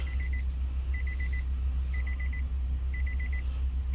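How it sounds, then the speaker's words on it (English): A car sounds repeated electronic beeps while its keys are being programmed, in quick bursts of four or five pips about once a second, over a low steady hum. "It's beeping."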